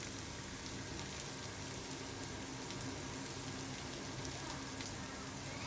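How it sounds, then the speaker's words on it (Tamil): Onions and garlic sauté in a hot pan, giving a dense, even sizzle that stays loud and unbroken throughout with no voices. "உள்ளியையும் வெங்காயத்தையும் போட்டு அதை வதக்க விடுவோம்."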